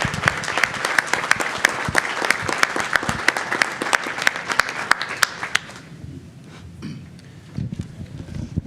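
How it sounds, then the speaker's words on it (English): Loud, dense applause rises from an audience at a board of education meeting as parents stand, sharp individual claps punctuating the crowd for several seconds before fading into quieter room noise and scattered claps. "We want to give you a round of applause as well."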